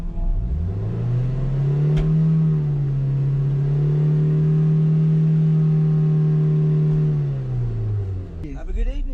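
A Mazda MX5 with its stock exhaust refitted revs up and holds a steady, loud engine drone for several seconds at a racetrack noise test, then drops back and dies away.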